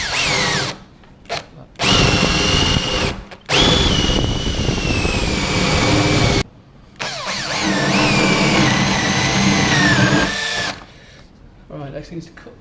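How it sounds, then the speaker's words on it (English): A power drill whines loudly in three long bursts, its pitch sagging as the bit bores holes in the corners of a sink cutout, separated by short pauses with brief clicks. "The next thing to do is to drill a hole in each corner"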